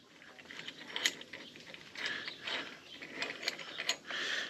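A shop machine pushes a car's brake caliper piston back into its housing, giving a steady mechanical whir with repeated short clicks and ratcheting bursts, close up and moderately quiet, with no talking.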